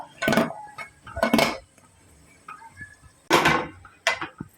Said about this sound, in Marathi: हे भांड आपण त्याच्यामध्ये ठेवायचं आहे